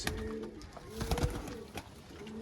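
A Teddy pigeon coos close by in a low, throaty murmur, with a few soft rustles and taps around it.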